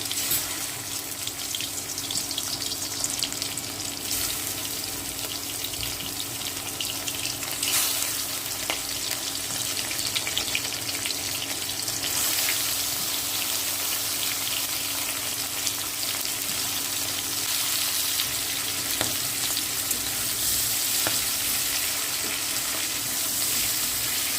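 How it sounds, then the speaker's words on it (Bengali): Prawns fry in hot mustard oil in a kadai, a continuous, even hissing sizzle that holds steady for the whole stretch, close up and with no voices. "সরিষার তেল দেব তেলটা আমার গরম হয়ে গিয়েছে এবার আমি মাছগুলো ভেজে নেবো"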